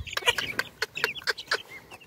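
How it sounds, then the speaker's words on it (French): A Pekin bantam hen clucks in a quick series of short, close, bright calls, repeated rhythmically over about two seconds against a quiet background. "Ma petite poule Pékin pure."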